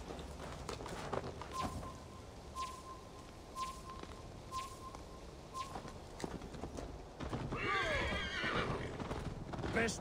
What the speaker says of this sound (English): Ride like Sleipner's hooves! Your horse is slow